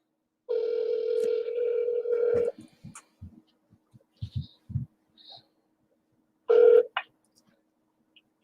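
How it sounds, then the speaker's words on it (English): A telephone call is placed: a steady tone for about two seconds, then a series of short clicks and beeps as the call connects, and a brief ringing tone near the end, with no talking. "So we're going to get Melanie on the phone"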